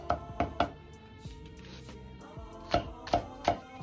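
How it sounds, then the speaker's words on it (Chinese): Crushed ginger and garlic chopped with a cleaver on a board: a quick burst of three sharp knocks, a pause, then three more, close and distinct. "先拍破再剁碎。"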